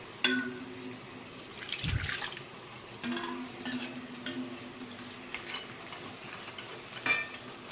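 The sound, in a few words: adding water to prawn legs curry in pan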